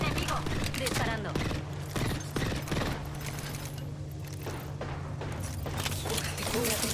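Rapid video game gunfire, dense bursts of shots crackling continuously up close, with mechanical clicks and in-game voice callouts mixed into the busy combat noise.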